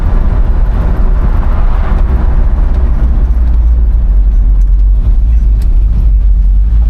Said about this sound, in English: Yeah, this is definitely a fun truck to drive.